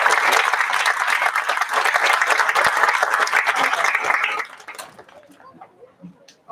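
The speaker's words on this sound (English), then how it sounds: "So let's give them a round of applause for supporting our kids." A school spring band concert audience applauds loudly for several seconds, a thick crowd of clapping that suddenly thins out to a few scattered claps and quiet room noise.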